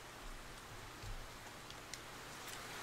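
Rain beating against a window in a visual novel game, a steady dense patter of drops with faint ticks, soft and continuous without voices.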